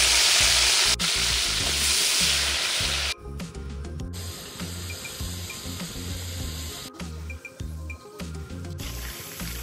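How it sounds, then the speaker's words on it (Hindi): Potatoes fry in a pan during village-style cooking of Hyderabadi fish biryani, a loud steady sizzle that runs throughout, with a few clicks and stirring noises and no talk. "अभी आलू फ्राई करेंगे।"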